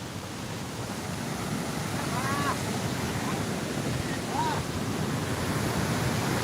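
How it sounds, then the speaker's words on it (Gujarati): Floodwater of the Malan river rushing and throwing up spray, a constant loud roar of water mixed with wind buffeting the microphone, with faint voices briefly audible over it. "પાણી અત્યારે આમ જો કેવા ફુવારા ઉડે છે"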